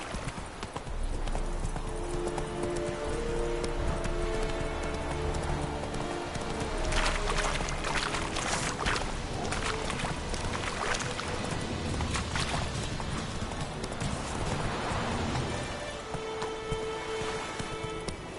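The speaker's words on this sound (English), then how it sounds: "Whoa there, Roach." Horse hooves clip-clop steadily in The Witcher 3, a continuous rhythmic trot over game ambience with occasional louder rattles and no talk.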